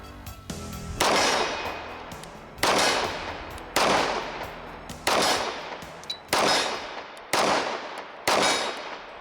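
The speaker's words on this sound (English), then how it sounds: "Let's try to shoot at the target 23 yards away." A Kimber Rapide 1911 pistol fired at a target 23 yards away: seven sharp, loud single shots at a steady spacing of about one per second, each ringing off with a short echo.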